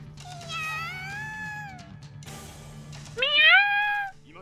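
A princess character in the Nin²-Jump video game meowing like a cat: a long drawn-out meow, a short pause, then a louder, higher meow, clear and close.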